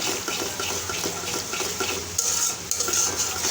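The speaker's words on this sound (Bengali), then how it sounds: "এটা আমি ভালো করে এটাকে নেড়ে নিচ্ছি" Spice paste being stirred in a pan for a ridge gourd and koi fish curry, giving steady scraping and clinking of a utensil over a soft sizzle, close and continuous with no talking.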